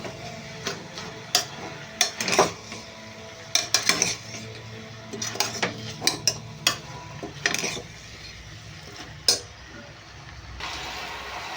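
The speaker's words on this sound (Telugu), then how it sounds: "ఒకసారి అయితే ఫ్రై చేసుకుందాం" Broad beans with turmeric frying in a pan, with repeated sharp clinks and scrapes of a spoon stirring against metal at an irregular pace, close, over a faint background hiss.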